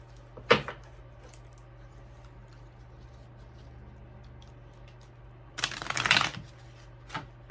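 A deck of tarot cards is handled close up: a short riffle near the start, a quiet pause, then a longer, louder burst of shuffling with a final flick, no voices present.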